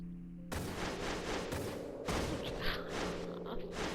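Cannons in a Final Fantasy IX cutscene fire in heavy, rumbling volleys that start abruptly and roll on continuously, with repeated booming blasts layered over each other.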